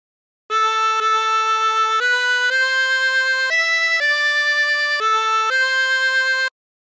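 A 24-hole tremolo harmonica plays the melody of "House of the Rising Sun" as a string of about nine sustained, wavering reedy notes, loud and close, with no voices.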